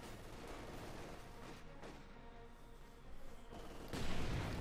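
Sniper rifle fire in the World War II strategy game Company of Heroes 2, shots cracking out over a dense ongoing battle din, with a louder burst of gunfire near the end.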